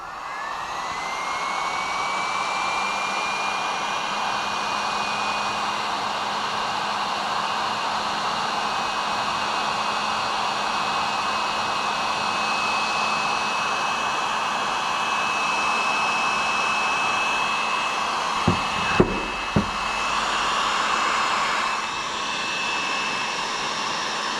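A heat gun blows steadily on Brembo brake calipers for a Z31 300ZX big brake kit, giving a continuous loud whooshing hiss with a faint whine, interrupted near the end by a couple of sharp clicks before easing off.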